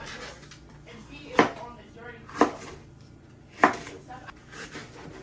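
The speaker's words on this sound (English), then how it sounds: "I'm just giving these a rough chop" Three separate knife strikes roughly chopping vegetables, about a second apart, each a sharp, close thud over a quiet kitchen background.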